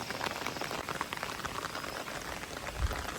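Rain falling, a faint, continuous patter of drops with scattered small ticks and splashes nearby, no voices.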